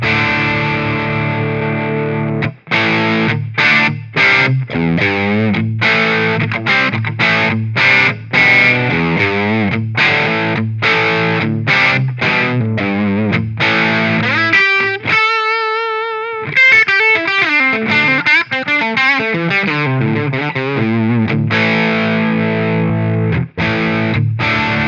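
Distorted electric guitar through a Marshall JCM 900 (Brit 9000) amp model with EQ switched off, loud and alone, playing rhythmic chugging riffs with choppy palm-muted stops and a brief sustained chord section near the middle.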